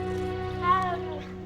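A cat in Hogwarts Legacy gives a single short meow over a steady background music drone, fairly quiet.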